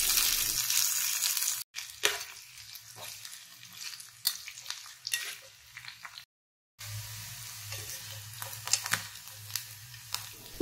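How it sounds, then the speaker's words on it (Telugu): Bitter gourd pieces sizzle in a tablespoon of oil in a kadai, a steady close frying hiss broken by stirring scrapes and short pauses. "ఇప్పుడు ఇందులో కాకరకాయ ముక్కల్ని వేసి ఫ్రై చేసుకోవాలి."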